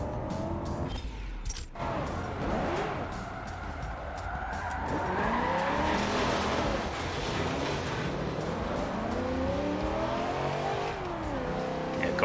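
A car braking hard and skidding in Forza Motorsport 7, tires squealing in long sweeping tones over a steady engine drone, with revving and a sharp transient near the start.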